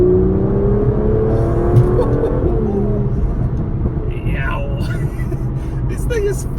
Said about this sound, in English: All right, driving the DB11